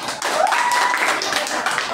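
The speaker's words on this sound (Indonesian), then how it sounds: "tepuk tangan buat temannya" A classroom of students claps for a classmate, a brief burst of many hands with a voice speaking over part of it.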